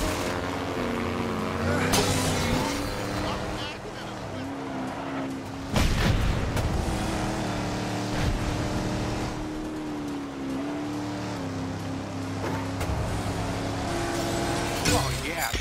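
Race car engines whine and rumble in a Lightning McQueen beach race video game, revving pitch rising and falling with sharp crash bursts, under game voices speaking.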